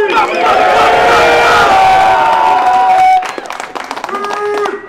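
A large crowd at a rap battle event roars, cheers and whoops loudly for a few seconds, then the noise tapers into scattered shouts and voices.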